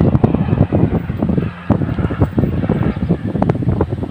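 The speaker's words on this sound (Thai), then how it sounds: "ลมแรงนะครับผมลมแรง" Strong outdoor wind buffeting the microphone in a cold open setting, loud continuous gusty rumble with rustling bursts throughout, no talk over it.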